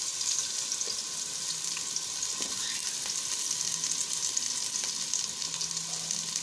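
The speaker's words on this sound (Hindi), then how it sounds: "ये हम इसमें प्याज डाल देंगे," Sliced onions sizzle steadily in hot ghee or oil, a continuous close frying hiss with faint scattered pops and no talking.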